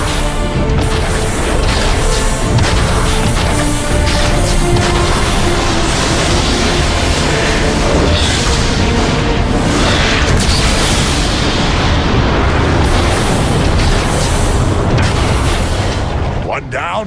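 Heavy booming explosions tear apart a warp cannon during a Transformers battle, a continuous barrage of loud blasts and rumbling with voices breaking in over the din.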